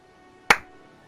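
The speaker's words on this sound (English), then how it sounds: "do you want to do a clap on yours" One sharp hand clap, close and crisp, with a brief decay in an otherwise quiet room.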